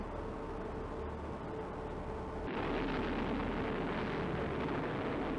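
A missile launching in a naval wargame, a steady broadband roar that jumps louder partway through as the weapon fires and keeps rushing at full strength to the end.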